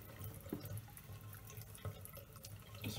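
Water runs steadily from a tap into a bathroom sink, a continuous soft splashing rush with small gurgles and drips throughout.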